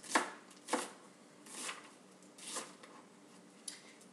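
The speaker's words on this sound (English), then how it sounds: "So I am going to cut an onion" A knife slices through an onion whose root end is left intact, cutting it into layers: about five crisp, quiet cuts at irregular intervals, with near silence between strokes.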